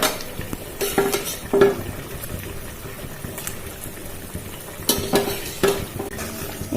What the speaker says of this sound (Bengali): এবার ভাজা আলুগুলো দিয়ে দেওয়া হচ্ছে।